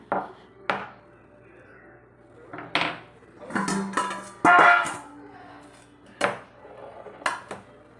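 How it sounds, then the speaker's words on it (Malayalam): Whole spices are lightly crushed in a kitchen, giving sharp knocks and thuds of pounding against a hard surface with clattering between, irregular and close, under a little background speech. "ചെറുതായിട്ടൊന്ന് ചതച്ചെടുക്കുവാണ്"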